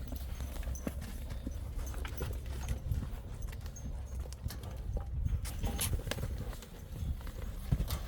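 Quarter horse hooves clip-clopping on the ground during a training session, a steady walking rhythm of soft thuds over low rumbling background noise, moderately close, with no talk.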